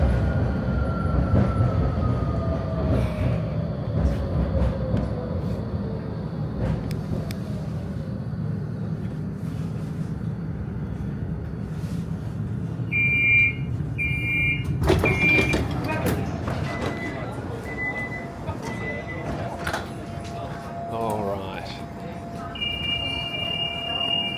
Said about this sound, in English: And we take the tram for 15 minutes.